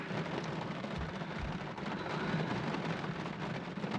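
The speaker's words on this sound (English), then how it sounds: "we got like a very strong thunderstorm coming in" A strong thunderstorm near Georgian Bay, heard from inside a parked car, brings a steady, dense hiss of heavy rain drumming on the surface. Low rumbles of thunder roll underneath, continuous and fairly loud.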